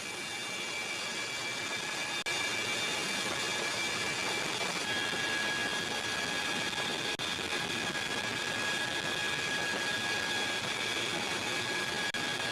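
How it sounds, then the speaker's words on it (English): A Chinook twin-rotor helicopter in flight, heard as a steady heavy turbine roar with a faint whine above it, unbroken and even throughout. "the soldiers sit in the dim cabin with the constant heavy vibration of the twin rotors above them"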